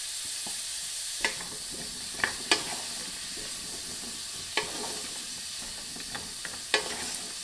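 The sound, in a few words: sautéing fresh green beans in a skillet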